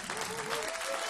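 An audience at a children's choir show applauds in a brief, dense wash of clapping, fairly faint and lasting about a second.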